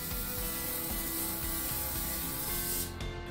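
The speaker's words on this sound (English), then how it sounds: "apparently I need to spray this down with a non-stick cooking oil" Non-stick cooking oil spray shot from a can onto baking pans for apple pie cookies, a close, loud, continuous hiss that holds steady and cuts off near the end.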